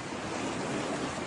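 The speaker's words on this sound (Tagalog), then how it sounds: "Ganito katindi ang baha kaninang madaling araw sa subdivision na ito" Floodwater rushes through a subdivision in Barangay Bakayan, Cebu City, after an overflowing creek before dawn, making a dense, steady roar of churning water with no voices.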